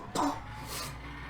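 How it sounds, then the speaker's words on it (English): A single short cough, fairly close, followed by quiet room noise. "I hate coughing"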